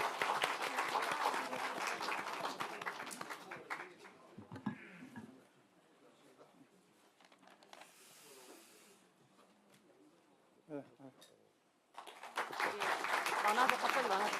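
A Democratic Party gathering applauds National Assembly speaker candidate Cho Jeong-sik. Loud, dense clapping opens the stretch and fades, a quieter interval follows with some talking and shuffling, then a fresh burst of applause swells at the end.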